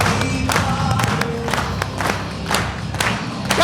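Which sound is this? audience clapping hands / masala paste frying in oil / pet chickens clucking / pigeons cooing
audience clapping hands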